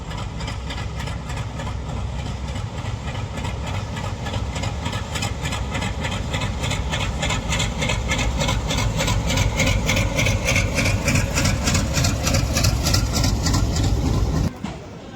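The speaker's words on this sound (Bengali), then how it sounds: "ডবল ডিজেল লোকোমোটিভ এবং দশটা ববিয়ান লোড পাথরের গাড়ি নসিপুর রেলব্রিজের সামনে এসে দাঁড়িয়ে আছে" A double diesel locomotive stands with ten wagons loaded with stone at a rail bridge, its engines idling in a steady, loud, near rumble with a rhythmic throb that runs throughout and cuts off abruptly at the end.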